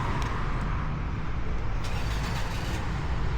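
A car sits with its engine running steadily during an annual roadworthiness inspection in New Zealand, an inspector at the wheel, the low rumble continuous and close with no talk.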